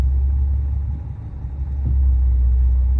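A Chrysler car with Fluid Drive transmission idling in reverse gear, a deep steady low rumble that dips briefly and swells back, heard close from inside the car.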